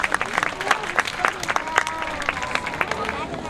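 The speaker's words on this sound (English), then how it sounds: "let's give them a round of applause too." An audience at a school assembly claps in a loose, quick patter of handclaps that stays fairly even and moderately near throughout, with a little crowd murmur beneath.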